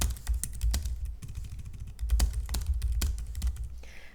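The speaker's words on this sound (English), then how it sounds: "let me type it first." Rapid, irregular keystrokes on a computer keyboard, close and fairly loud, clattering in quick bursts with short pauses and no talking.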